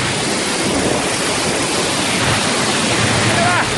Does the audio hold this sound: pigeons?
no